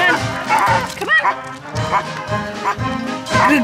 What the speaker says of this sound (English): There's a dog over there looking at us.